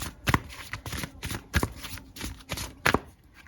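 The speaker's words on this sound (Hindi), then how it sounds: "यहाँ से भी कुछ कार्ड निकालते हैं" Tarot cards being shuffled and drawn by hand, heard up close as quick, irregular riffling bursts and soft slaps with brief gaps between them and no talking.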